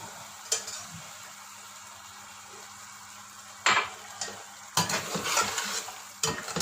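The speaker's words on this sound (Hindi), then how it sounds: "गोश्त भुन रहा है" Mutton pieces fry in oil in a karahi, a steady low sizzle underneath occasional sharp scrapes and clatters of a spoon stirring against the pan.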